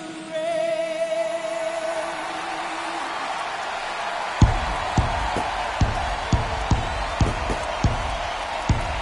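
A crowd at festivities makes a steady roar of cheering and whooping, then a series of sharp rhythmic bangs like slams or claps starts halfway through and repeats about every half second over the noise.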